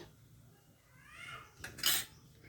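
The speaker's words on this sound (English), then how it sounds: "So now I am put the pan on the gas." A metal pan is set down on a gas stove in a home kitchen, making one brief clanking knock with a short rattle after a quiet stretch.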